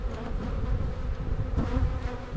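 Dense, steady buzzing of many honeybees and drones crowding close around an open hive during a spring inspection done without a smoker, a continuous swarm hum with no voices.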